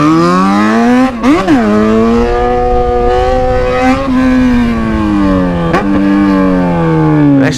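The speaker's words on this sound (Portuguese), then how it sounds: "será que não é porque o barulho da XJ é muito alto?" A Yamaha XJ motorcycle engine revs hard while riding, loud and close, with repeated rising and falling pitch sweeps, sharp dips between gear changes, and a sustained high whine.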